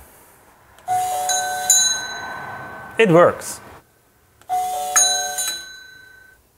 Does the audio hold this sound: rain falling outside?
no